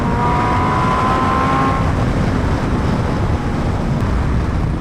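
A Suzuki Hayabusa motorcycle roars under acceleration, a loud continuous engine drone heavily buffeted by wind noise, with a rising tone that breaks off around a gear shift.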